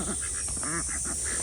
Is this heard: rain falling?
no